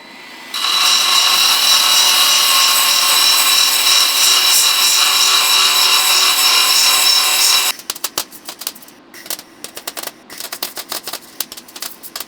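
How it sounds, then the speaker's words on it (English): A power sanding tool grinding down welds on the steel body of a BMW E28, a loud, steady abrasive whir for several seconds, then stopping into a run of irregular scraping and tapping. "I think it's a really great tool to sand down the welds."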